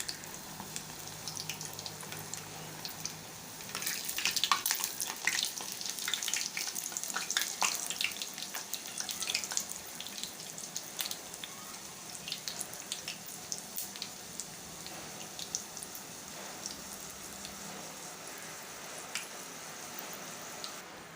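Spinach pakoras fry in hot oil over a high flame, a quiet, even sizzle with brief crackling bursts early on, then settling into a soft continuous hiss.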